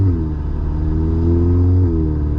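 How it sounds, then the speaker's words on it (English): A car on a new transmission control unit tune pulls hard under throttle, its engine droning loud and steady with harmonics sliding as it shifts smoothly into second gear. "And I'm on the throttle now, and boom, 2nd gear."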